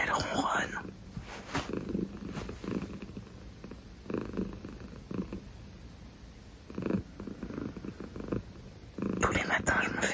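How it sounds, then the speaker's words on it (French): A cat lies close beside a person in the morning and purrs softly with a low rhythmic rumble, while someone speaks quietly over it. "Et elle ronronne."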